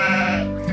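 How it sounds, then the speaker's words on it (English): Sheep bleating in one short, wavering call, close and loud, with no other sounds around it. "the sheep goes"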